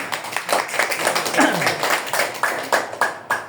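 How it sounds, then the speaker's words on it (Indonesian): A church congregation claps in rhythm during a worship service, with regular, sharp hand claps roughly twice a second, close and fairly loud, mixed with voices. "Tepuk tangan."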